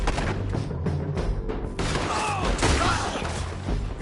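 A burst of rapid gunfire rattles through a town shootout in Red Dead Redemption 2, shots overlapping in dense volleys with booming thuds, loud and close, with shouting voices mixed in.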